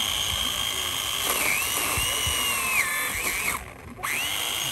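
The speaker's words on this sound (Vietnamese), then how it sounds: "bây giờ em lấy em cưa thử cái cây này luôn" A chainsaw whines at high pitch, its engine rising and dipping as it cuts through a tree, briefly easing off before revving again.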